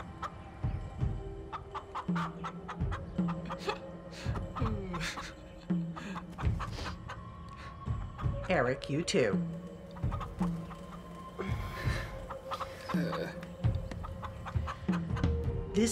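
Chickens cluck repeatedly in short, uneven bursts close by, with a brief flurry of louder squawks midway, mixed with people speaking.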